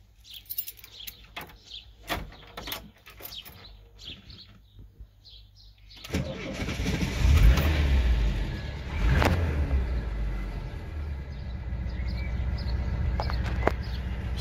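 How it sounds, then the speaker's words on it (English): A 1982 VW T25 Devon campervan's air-cooled engine cranks and starts after a few seconds of light handling noises, then settles into a loud, rough, close idle with a couple of swells in revs. "we'll start it up so you can hear what the air cooled sounds like"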